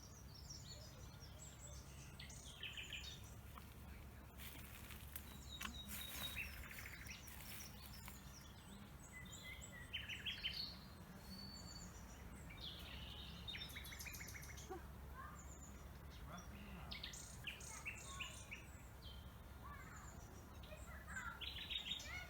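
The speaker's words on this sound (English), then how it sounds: "It was, of course, a nightingale, and a bird that I found singing just around the corner from my house." A nightingale sings near a house in a local patch: bright, varied phrases of whistles, trills and rapid chirps repeat over steady low background hum, moderately distant and alone without talk.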